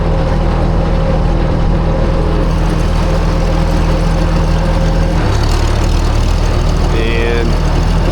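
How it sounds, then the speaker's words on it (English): A vintage tractor's steady, low engine drone runs throughout with a constant rumble and hum, shifting pitch briefly near the end; faint voices sit underneath, at a steam threshers show. "This tractor sounds so awesome."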